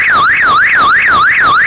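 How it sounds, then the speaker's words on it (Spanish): A very powerful electronic intruder-alarm siren set off by a window sensor, wailing loud and close in fast, regular up-and-down sweeps, about three per second, with nothing else audible. "es una sirena muy potente que nos va a alertar ante la presencia de un intruso"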